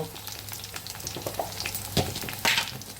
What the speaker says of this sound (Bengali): আর তারপর কাঁচা লঙ্কা দিয়ে এগুলো রান্না করছি।